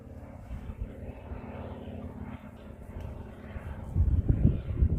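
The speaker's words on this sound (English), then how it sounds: "Let's see if we can get that plane." A propeller airplane drones overhead on an outdoor horse ride, a low, faint hum that swells louder toward the end as it passes close.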